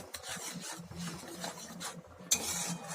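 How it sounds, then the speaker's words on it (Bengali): Spoon stirring a thick cashew and poppy seed paste curry for a no-onion, no-garlic paneer dish in a pan, giving repeated close scraping and rubbing strokes with a faint sizzle underneath and a sharp clink near the end. "এটা কিন্তু স্টেয়ার করতে থাকতে হবে, যেহেতু কাজু বাদাম বাটা রয়েছে তাই লেগে যেতে পারে।"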